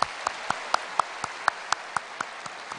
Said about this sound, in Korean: 우리 환영의 박수를 하겠습니다.